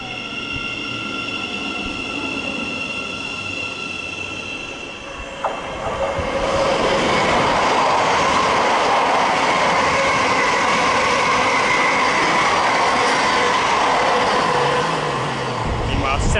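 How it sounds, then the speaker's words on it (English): A Thameslink Class 700 electric train passes non-stop through a station, rising from a distant approach to a loud, sustained roar with wheel noise before easing off slightly at the end. "Meanwhile, another Thameslink non-stop is about to pass on the other side."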